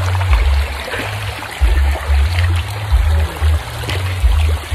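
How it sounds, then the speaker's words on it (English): River stream flowing outdoors, a steady close rush and trickle of water with low gurgling pulses. "I will let you hear the nature, the river, the birds"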